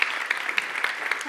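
Warm applause from an audience at a science award ceremony honouring a prize winner, steady clapping with crisp individual claps, fairly close and filling the whole moment.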